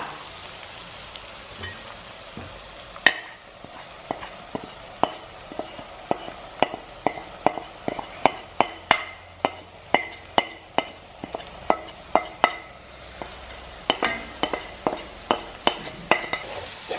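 A spoon stirs masala into cashews frying in oil, giving a steady series of sharp scraping taps over a soft sizzle, with no talking.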